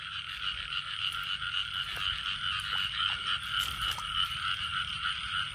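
Wet-night croaking from field frogs in rain-soaked rice fields, a thick continuous chorus with a few sharper nearby calls standing out every second or so, no talking over it.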